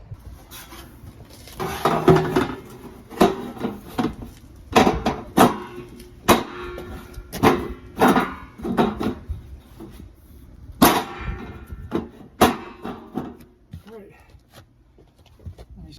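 Corrugated steel hurricane shutters clank and scrape as they are laid flat and stacked on one another, giving repeated loud metallic knocks and rubs close by, with someone talking throughout.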